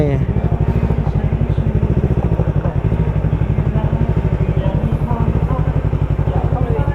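Motorcycle engine idling nearby with a steady low mechanical thrum at a guesthouse in Ratchaburi, continuous and loud throughout, with faint voices mixed in.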